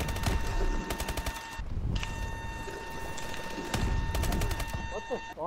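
Bursts of video game gunfire from a Hardpoint clan battle match, rapid automatic fire coming in several loud runs under background game noise and some talk.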